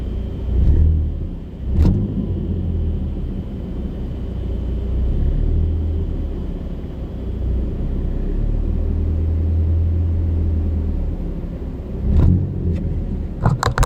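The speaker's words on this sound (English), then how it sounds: "But here's idle." A car engine fitted with a PowerFlex motor mount bushing idles steadily, a deep bassy rumble that holds level throughout, with a couple of brief clunks or knocks near the start and again toward the end.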